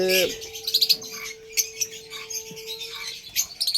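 Pineapple conure parrots chirping nearby in rapid, high, bright bursts, with a steady tonal hum in the background.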